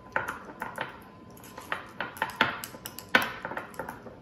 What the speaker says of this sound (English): I'm going to take some crumbled blue cheese, kind of mash that in with the butter